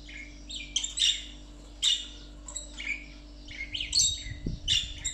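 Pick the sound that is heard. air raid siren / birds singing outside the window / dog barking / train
birds singing outside the window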